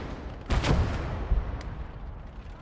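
A heavy high-explosive anti-tank shell fires with a loud, booming blast in the World War II Eastern Front game Gates of Hell: Ostfront, followed by a second, smaller thump and a fading rumble.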